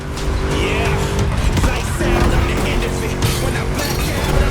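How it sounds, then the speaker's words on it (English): A deep, throaty Mustang V8 engine in the video game The Crew Motorfest roars continuously at high revs, loud and close, with a brief tire squeal mixed in. "Just listen to that V8 like a chunky, down-tuned guitar riff"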